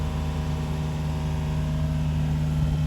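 A Hallberg-Rassy 382 sailing yacht motors under its inboard diesel, a steady close low hum with a constant tonal drone and no variation in pace.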